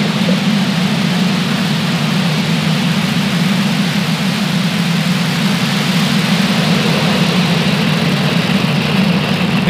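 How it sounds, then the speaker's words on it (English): A SpaceX rocket lifting off from the Florida coast with Turkish satellites, its engines giving a loud, steady, broadband roar that fills the whole clip without a break. "Ignition and liftoff."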